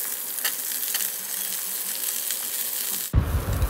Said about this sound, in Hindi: तो प्याज को लाइट गोल्डन कलर तक इसको भूनेंगे।